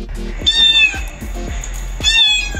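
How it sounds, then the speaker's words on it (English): Two electronic-sounding cat meows, one early and one near the end, played loudly through the external speaker of a 2024 Zeekr X car, with a steady low hum underneath. "this car has an external multimedia speaker. So if you want to troll people, you can do things like"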